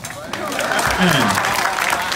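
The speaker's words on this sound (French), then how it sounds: "applaudissez-moi" A crowd at a political gathering addressed by a politician in Côte d'Ivoire breaks into applause, a dense, loud rush of clapping and crowd noise with a voice carrying over it throughout.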